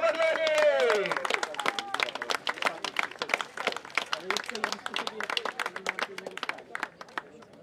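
An audience applauds a female fighter at a women's combat tournament with medieval-style bouts. A voice speaks briefly, then scattered claps build into sustained, lively clapping from a moderate-sized crowd.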